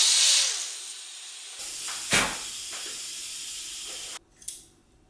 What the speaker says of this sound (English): Well, it's definitely generating some steam.